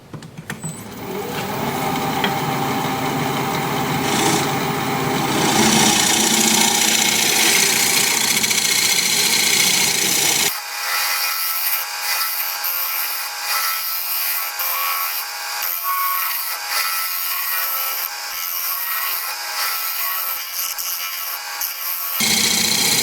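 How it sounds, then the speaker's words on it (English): A scraper works an acacia bowl spinning on a wood lathe, giving a continuous, loud, rough rasping hiss over the motor's hum; midway the sound shifts to a thinner, brighter scraping with the low end dropping away. "I'm going to switch to my scraper and we'll scrape"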